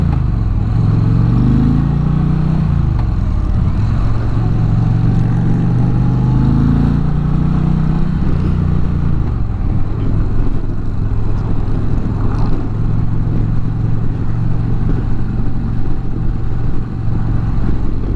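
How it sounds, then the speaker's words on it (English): An Indian Challenger performance bagger motorcycle rides along a winding road, its engine droning and rising and falling in pitch as it shifts, loud and close, with steady wind noise. "Let's take us on this little windy road here, see how our performance bagger does."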